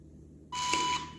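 A smart security camera gives a reset warning beep: after a quiet hiss, a single steady electronic tone sounds for about half a second, clear and close, then stops.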